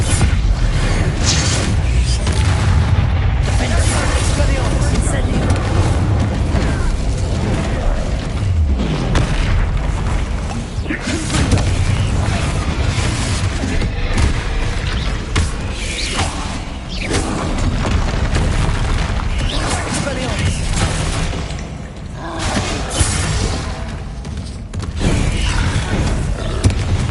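Confringo and Incendio spell blasts from Hogwarts Legacy on PS5 boom loudly one after another in a near-constant stream of heavy explosions and thuds, with only brief dips between impacts.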